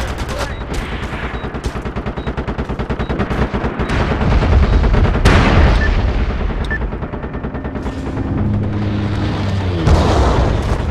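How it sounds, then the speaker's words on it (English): A strafing run in the online shooter MAG on a Domination map tears through with rapid, loud machine-gun bursts and heavy booming explosions, a sustained barrage of close battle noise and distant impacts. "Strafing run coming in on D, watch out."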